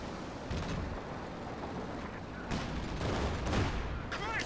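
Tank gunfire in Company of Heroes 2, a few heavy shots and booms over a rumbling battle background.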